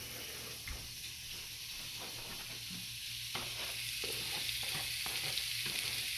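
Constant loud sizzling and crackling from hamburger patties frying in a hot pan, with occasional soft scraping taps, close up with no voices.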